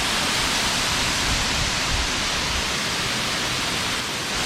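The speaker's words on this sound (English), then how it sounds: "after making it here to the waterfall" A waterfall in Canggu, Bali, gives off a steady, loud, even roar of rushing water. It stays unbroken throughout and has no talk over it.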